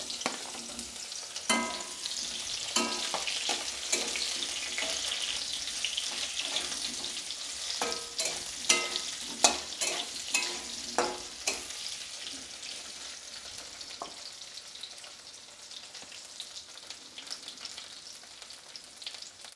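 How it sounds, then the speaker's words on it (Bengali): Potato pieces fry in white oil in a wok for a Bengali mixed vegetable dish, a steady close sizzle broken by sharp stirring clacks that grow busier midway, then settle into a quieter hiss. "আলুটা আমি প্রথমে ভেজে নেব।"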